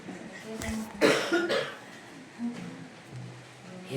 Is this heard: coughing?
yes